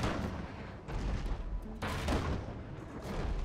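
Heavy bursts of cannon fire from ship barrages in the naval combat game Abandon Ship, several booming volleys in quick succession, loud and close, with no talking.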